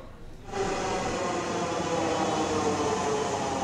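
A Dhaka metro train runs at a station, starting with a sudden rise into a steady, loud rolling rumble and whine that holds until the end, with no voices.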